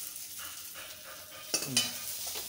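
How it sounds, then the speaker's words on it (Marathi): Sweet corn shallow frying in a pan at home, a soft steady sizzle with a couple of brief stirring scrapes and clinks partway through, moderately quiet and without talk. "आता स्वीट कॉर्न भाजून घ्यायचे थोडेसे शालो फ्राय करायचे"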